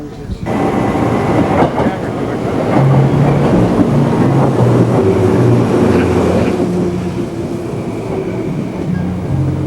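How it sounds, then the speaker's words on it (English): Shinjuku railway station with trains running, a loud, continuous rumble and rattle of rail cars with a busy murmur of voices beneath it. "We're at a railroad station. This happens to be the Shinjuku railway station."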